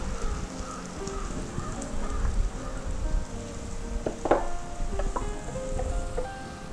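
Sliced onion and green chillies frying in hot butter, a steady soft sizzle with scattered crackles and a few utensil clicks close by.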